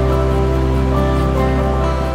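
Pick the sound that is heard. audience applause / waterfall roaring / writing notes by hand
waterfall roaring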